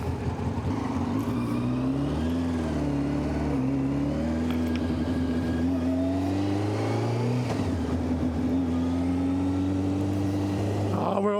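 1990 Honda CBR600F motorcycle ridden through countryside, its engine revving and climbing through gears in long rising pulls with shifts, loud and close throughout.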